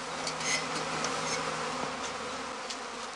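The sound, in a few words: swarm of honeybees buzzing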